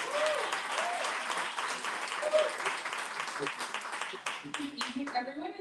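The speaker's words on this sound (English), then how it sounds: "Please give a round of applause." An audience at the Labor of Love Awards ceremony applauds loudly and steadily, with dense clapping that fades near the end.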